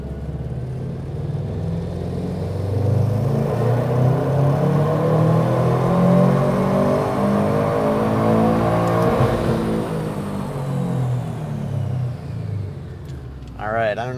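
A tuned car engine on a dyno during a full pull revs hard and climbs steadily in pitch over several seconds, loud and sustained, then drops off near the end.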